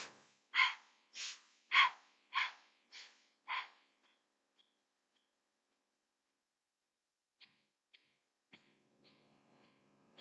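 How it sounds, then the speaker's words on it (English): Rapid Bhastrika pranayama breathing, with six forceful, evenly paced breath bursts close to the mic in the first few seconds, followed by quiet and a few faint clicks and rustles. "It's almost like a Bhastrika breath, which is like equal inhale, equal exhale."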